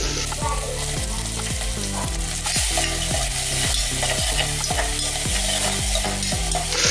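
Finely chopped onions and green chillies sizzling in a pan for pav bhaji, a loud continuous hiss broken by a regular rhythm of spoon-stirring scrapes, heard close with no talking.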